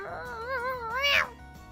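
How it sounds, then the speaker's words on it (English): A young house cat lets out a long, wavering meow that rises and swoops before cutting off, close and fairly loud over a low steady background hum. "My cat is freaking the fuck out right now. So, you may hear her running around and going..."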